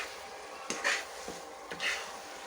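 Taro greens stirred in hot oil with a hilsa fish head, soft scraping strokes in the pan about once a second over a steady low sizzle, close and alone.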